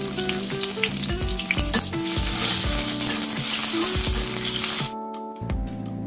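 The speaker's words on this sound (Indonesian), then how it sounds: "Ya, bawang merahnya saya tumis dulu." Shallots sauté in three to four tablespoons of cooking oil with a loud, continuous sizzle and crackle, and a spoon stirring them now and then, close up with no voices.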